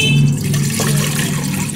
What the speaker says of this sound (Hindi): पानी डाल दिया इसमें।